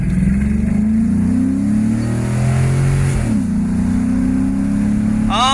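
A car engine hums steadily while driving after an exhaust leak repair, with a smooth, even exhaust note and a brief dip in pitch partway through, close and continuous.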